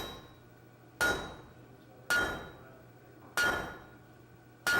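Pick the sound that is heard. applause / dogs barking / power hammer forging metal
power hammer forging metal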